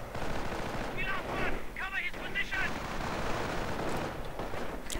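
Video game battle of riflemen against Volksgrenadiers among tombstones, a dense rattle of small-arms gunfire with irregular bursts and shots under steady battle noise. A voice talks over it throughout.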